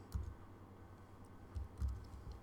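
Quiet typing on a computer keyboard while code is entered, a few soft clustered key clicks spread over a couple of seconds against faint room noise.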